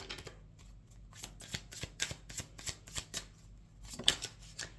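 Oracle cards are shuffled close by: a quiet run of rapid riffling flutters and soft slaps, about a dozen bursts in quick rhythm with a slightly louder snap near the end, and no talking.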